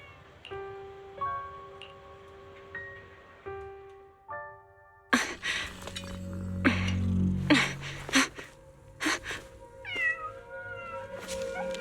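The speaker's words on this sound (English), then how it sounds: "there's a cat over there." A cat meows several times in Zenless Zone Zero, short rising cries scattered over the later seconds after a soft melodic music cue, fairly close and clear with no one talking.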